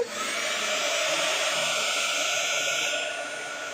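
A hair dryer blows on a watercolor painting to dry a section of a Christmas card, a loud, close, steady rushing whoosh that holds constant for several seconds before easing slightly at the end.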